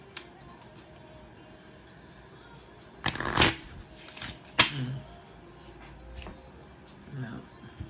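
A deck of cards being shuffled, with two short riffling bursts in the middle and a fainter one near the end, close and crisp against a quiet room.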